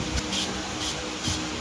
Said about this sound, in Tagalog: Hindi ko akalain na sobrang lakas pala nito mag-spray.